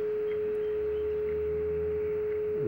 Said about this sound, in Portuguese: Esse é o som do sinal de espera,